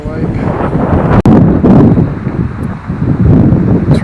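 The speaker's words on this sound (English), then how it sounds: "It's really getting windy now," Strong wind buffets the microphone with loud, roaring gusts and rustling at a lake on the former Fort Ritchie Army base as a storm approaches, with a brief sharp dropout in the middle.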